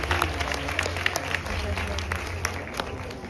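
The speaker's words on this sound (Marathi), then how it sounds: "आपल्या जजेससाठी जोरदार टाळ्या झाल्या पाहिजे." A crowd applauding the judges at a stage reunion show, with a dense patter of clapping and crowd noise throughout the short stretch, heard fairly faint as if from within the audience.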